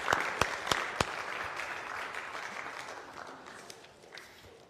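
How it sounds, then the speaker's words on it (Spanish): Church congregation applauding children during a Sunday service, a few sharp claps up front giving way to steady, fairly soft applause that slowly fades. "Démosles un fuerte aplauso a nuestros niños del día de hoy."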